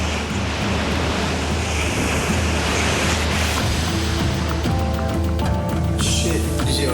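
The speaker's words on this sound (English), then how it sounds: "desperate to avoid another set of waves" Ocean surf at Bondi Beach, waves breaking and rushing in a steady loud roar with wind buffeting the microphone, while faint voices sit underneath.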